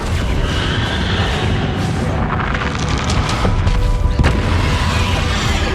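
Bombarda explosion spell in Hogwarts Legacy, loud booming blasts and crashing bursts over several seconds of dense, rumbling game combat noise.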